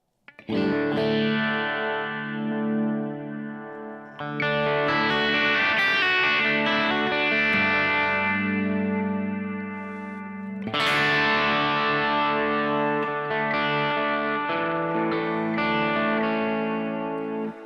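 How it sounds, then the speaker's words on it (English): Sustained guitar chords with a sweeping, swirling phaser effect, played loud and continuous with a fresh strum midway and no voices. "Let's adjust this phaser here."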